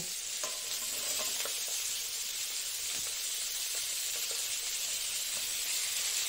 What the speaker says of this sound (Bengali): আমি ফুলকপিটাকে আগে দেব, কারণ একটু ভাজা ভাজা হলে ভালো হয় আর কি।